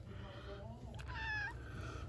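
A cat gives a short, rising meow up close, a single clear call over a low background hum, with a voice also present.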